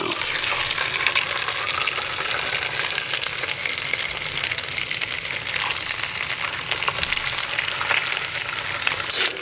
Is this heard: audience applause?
no